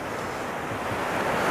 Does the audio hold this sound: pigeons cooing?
no